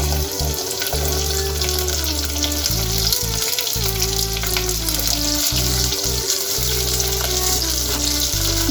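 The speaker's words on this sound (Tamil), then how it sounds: "பூண்டு நல்லா ப்ரௌனிஷா வதங்கி வருது." Garlic and shallots sauté in hot oil for sundaikkai kulambu, a steady, close, loud sizzle with light stirring that runs unbroken from start to finish.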